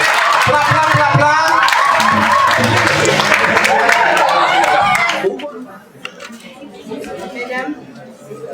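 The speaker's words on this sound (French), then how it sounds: "applaudissez chaudement s'il vous plaît" Guests at a wedding reception applaud and chatter together in a loud, busy crowd for about five seconds. After that the noise drops to quieter murmuring.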